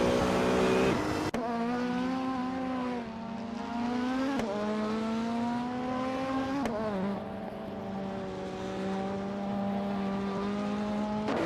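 Race car engines at the Snetterton 300 circuit in a racing video game, a loud sustained high-revving whine that climbs in pitch through gears, with abrupt shifts and cuts between cars, no talking.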